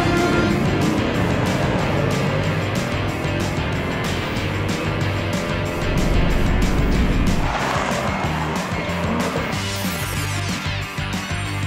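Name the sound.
Jeep Grand Cherokee Trackhawk racing Mercedes AMG GTR and Aston Martin DB11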